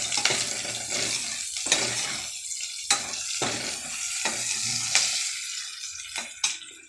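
Food fries in a pan with turmeric added. A soft sizzle runs throughout, and sharp scraping clacks from stirring recur every second or so. No voice is heard.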